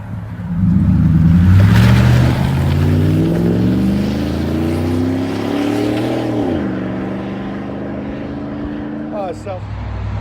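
A lifted 2019 GMC Sierra Z71 with a 5.3L V8 and factory converters revs loudly through its aftermarket exhaust, climbing in a long rising roar before dropping back to a deep, steady burble close to the microphone.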